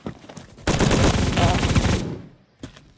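Sustained automatic fire from an STG-44 rifle in the video game Phantom Forces, a loud rapid burst of about one and a half seconds, then a brief pause and a short follow-up burst.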